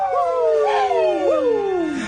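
A dog whimpering sound effect: a high, whining cry that slides up and down in pitch, rising and falling in wavering swoops for about two seconds, fairly loud and close with no talk.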